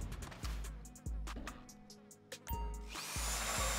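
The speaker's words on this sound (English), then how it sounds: "Drill this thing." A power drill grinds through a bank vault door during a Paleto Bay bank robbery in GTA 5, revving in several short bursts, then running continuously near the end, fairly close and loud.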